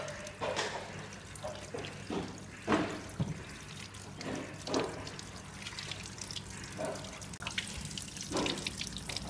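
Water runs steadily into a washing machine drum set to a disinfecting spin cycle, a continuous close trickle and splash with a few louder surges, no voices.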